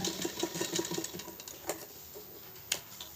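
Sewing machine stitching fabric in a tailoring class, a quiet, fast, steady mechanical rattle with a few louder clicks, running alone.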